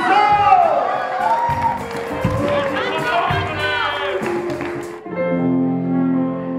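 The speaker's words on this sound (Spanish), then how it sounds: "¡Aplauso!" Wedding guests cheer and whoop with clapping mixed in, a loud lively crowd with shouting voices over scattered applause, giving way near the end to a sustained musical tone.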